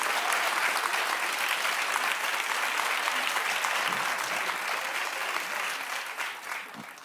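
A studio audience on The Wendy Williams Show claps loudly and steadily, a dense, even wash of hands that holds for several seconds and tapers slightly toward the end.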